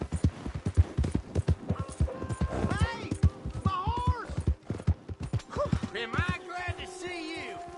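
A horse in Red Dead Redemption 2 clops along with rapid, rhythmic hoofbeats and gives a couple of whinnies over a busy game soundscape, with voices talking at times alongside.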